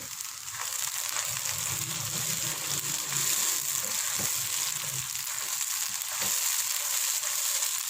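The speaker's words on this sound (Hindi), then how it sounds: "अब इसमें टोमेटो पेस्ट डाल देंगे और इसको 1 मिनट के लिए भूनेंगे।" Tomato paste and softened onions sizzle in a pan for a chicken achari gosht, a dense, continuous frying hiss that stays loud and even throughout with a few faint stirring scrapes.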